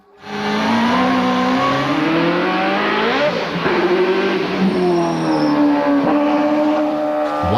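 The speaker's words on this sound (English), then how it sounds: "Gabi shows her teeth, wagging while accelerating out and spitting fierce fire." A BMW M3 GTR race car nicknamed Gabi accelerates hard, its engine note climbing through several gear changes with sharp shifts and brief dips, loud and close throughout with no talk.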